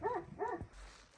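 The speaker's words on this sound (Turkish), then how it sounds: "Ne oluyor dışarıdan köpek sesi geliyor." Two quick Kangal dog barks from outdoors, fairly faint and slightly distant, followed by a low rumble of background noise.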